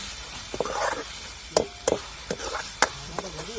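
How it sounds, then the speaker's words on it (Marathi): Spices sauté in oil in a pan for a garlic-fenugreek (lasuni methi) dish, stirred until the oil separates. A soft, steady sizzle runs beneath repeated close clinks and scrapes of a spoon against the pan. "तर तेल सुटेपर्यंत आपल्याला सगळे मसाले परतून"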